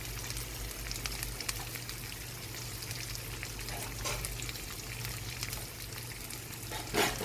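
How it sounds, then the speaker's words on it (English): Onion and capsicum frying in a pan, a faint, even sizzle heard up close, with a brief clatter near the end and no one talking. "So we'll put both onion and capsicum for them to get fried"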